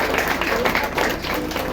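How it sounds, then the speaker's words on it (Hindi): An indoor audience at a Mumma Day celebration in Priyadarshani Vihar, Delhi, claps in a brief burst of applause for Manju Didi, dense and fairly close. "मंजू दीदी के लिए तालियां।"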